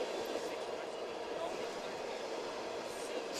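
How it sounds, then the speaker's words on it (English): A train rumbles past at a distance beside a football field, a steady continuous roar throughout, with people talking over it. "A little train coming by."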